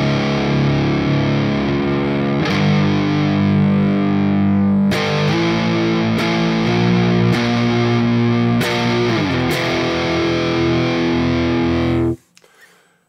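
Heavily distorted, detuned electric guitar in a classic doom metal style: slow, sustained chords with a few changes, loud and alone, then cut off with a brief fading rattle.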